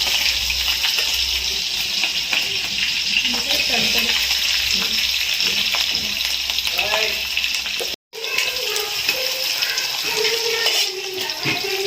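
Green chillies, slit lengthwise, sizzle and fry steadily in a pan while poha is being made, a continuous close crackle with a brief gap near the end and light kitchen clatter.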